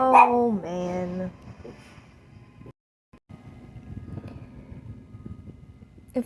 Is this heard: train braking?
no